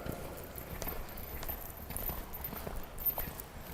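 Horse hooves clip-clopping at a walk during a riding lesson, a steady soft rhythm of footfalls that stays moderately quiet over a faint background hiss.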